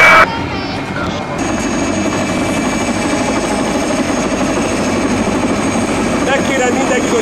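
Mil Mi-2 police helicopter turbine engine running at a takeoff and landing site, a loud steady whine and roar that holds unbroken throughout, with voices faintly audible beneath it.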